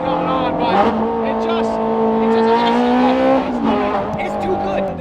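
A Ferrari supercar engine revs with a loud, close, steady tone that swells slightly and holds for several seconds, with no talking over it.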